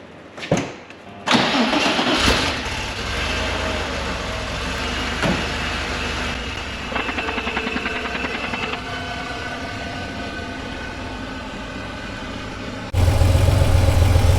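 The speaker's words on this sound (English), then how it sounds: "So now let's start it up, leave it running for a while and see where it's leaking from" A Porsche 911 964 Carrera 4 engine, being checked for an oil leak, cranks and catches, then settles into a loud, steady close idle with a rougher, louder stretch near the end.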